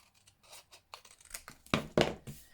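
Scissors snip through Classic Christmas designer series paper, a handful of quiet crisp cuts that grow sharper and louder toward the end, close and alone.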